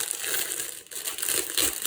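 Plastic packaging around a silicone trivet being unwrapped, close, busy crinkling and crumpling with a short pause midway, loud and alone.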